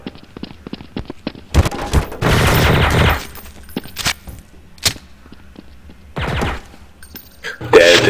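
Sharp bursts of Clarion rifle fire in Counter-Strike: Source, loud and close, with several short volleys and single cracks separated by quieter gaps.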